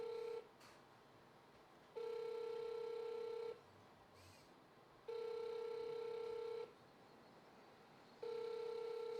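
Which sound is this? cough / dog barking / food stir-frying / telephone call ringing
telephone call ringing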